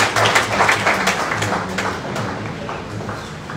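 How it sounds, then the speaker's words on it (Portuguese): Applause from an audience at a theological conference session on the family, a burst of dense clapping that peaks early and then thins out and fades over a few seconds. "Mais uma salva de palmas por aquilo que o Padre apresentou"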